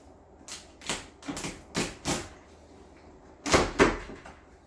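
A knife cutting through steamed cooked lobster shell makes several crisp, crunchy cuts close by, a quick run of four followed by a pause and then two heavier cracks.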